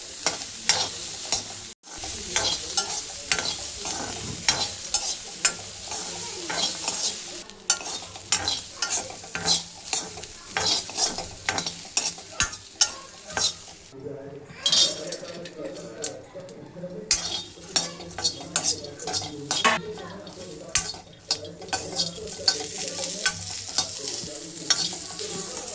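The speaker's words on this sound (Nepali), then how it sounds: "मकै भुट्न जाँदैछौँ अब हामीले" Corn being roasted and stirred in a pan, Nepali style: a continuous dry sizzle with busy, rhythmic scraping and rattling of kernels against metal, close and fairly loud, with brief gaps and faint voices in the background.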